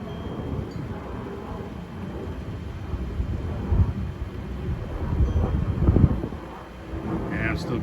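Thunder during a monsoon thundershower with light to moderate rain, a low rolling rumble that swells twice under wind noise on the microphone.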